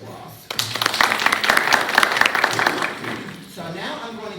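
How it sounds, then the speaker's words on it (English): A room of local citizens gathered for a school board community conversation breaks into sustained applause, a dense wash of clapping that swells quickly, holds steady for a couple of seconds, then fades as a voice resumes. "please give yourselves a round of applause"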